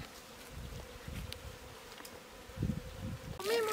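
Low bee buzzing hums through the whole stretch, faint and continuous, with a brief louder burst of noise near the end, outdoors near Tula and Ocampo.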